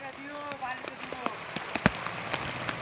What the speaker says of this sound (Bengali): এদিকে বৃষ্টিও চলছে